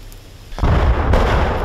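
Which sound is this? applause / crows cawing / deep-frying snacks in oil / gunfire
gunfire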